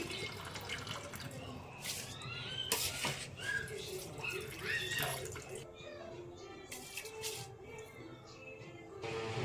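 Soaked rice is tipped into a pot of water for jeera rice, producing soft pouring splashes and drips near the microphone, with quiet background noise and occasional faint clinks.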